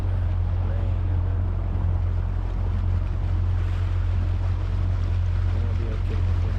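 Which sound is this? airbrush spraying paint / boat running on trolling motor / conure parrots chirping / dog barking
boat running on trolling motor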